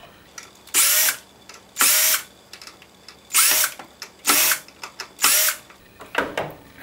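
A power drill backs screws out of the brace on a ZIP X series motor housing, six or seven short high-pitched whirring bursts separated by brief pauses, close and loud with no talk.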